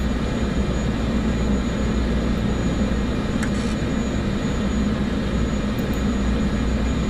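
An airliner taking off on runway 13 in Microsoft Flight Simulator 2024, a loud, steady, dense engine roar that holds constant throughout with no talk over it.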